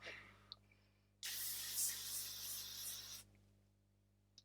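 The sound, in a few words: aerosol makeup setting spray being sprayed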